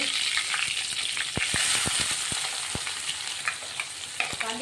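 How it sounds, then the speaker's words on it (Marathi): Cumin seeds and curry leaves crackle in hot oil along with mustard seeds for a spicy vegetable curry. A steady, close sizzle runs throughout, broken by sharp pops and a few spoon taps against the pan. "जिरे 1 चमचा, कढीपत्ता टाकतोय आपण आता."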